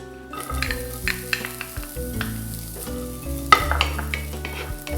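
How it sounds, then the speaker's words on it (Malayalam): Onions sauté in hot oil for cheeseburger sliders, a close sizzling fry with stirring scrapes and a steady tonal hum running underneath. "ഓയിൽ ചൂടായി കഴിയുമ്പോഴത്തേക്കും നമുക്ക് എടുത്തു വെച്ചിരിക്കുന്ന സവാള ഒന്ന് ചെറുതായിട്ടൊന്ന് വഴറ്റി കൊടുക്കാം."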